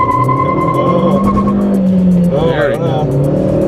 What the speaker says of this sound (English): here we go, a little bit of a launch, a little bit of wheel spin